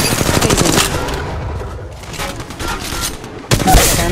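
Rapid bursts of automatic gunfire come from a video game, loud and close. The bursts are broken by a brief lull and end with a sharp boom near the finish.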